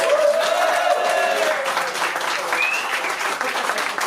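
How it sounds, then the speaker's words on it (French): An audience at a Djoliba & Friends concert at La Zonmé in Nice claps steadily in dense, close applause, with a few whistles cutting through. "vous demande un tonnerre d'applaudissements, s'il vous plaît"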